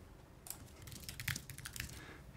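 Quick, irregular keystrokes on a computer keyboard as a short name is entered for a new dataset in a TrueNAS storage setup, light clicks close and clear over a quiet room.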